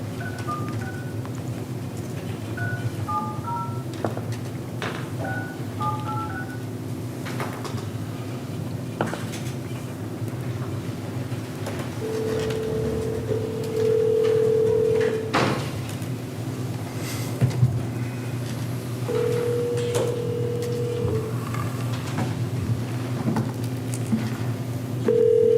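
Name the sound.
telephone being dialed, dial tone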